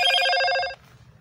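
Short bright electronic phone notification chime, a ringing multi-tone burst lasting under a second, loud and close, then fading to faint room noise.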